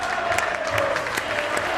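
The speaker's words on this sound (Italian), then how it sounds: "c'è anche l'applauso di tutto il Palalido e anche della curva sud lodigiana" Arena crowd at a Serie A1 roller hockey match between Valdagno and Lodi, filling the Palalido with sustained applause, dense and continuous, with a faint steady tone running underneath.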